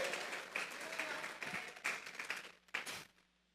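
A church congregation at a Sunday service claps together in praise, a dense, fairly faint burst of applause that swells and fades in waves before tapering off.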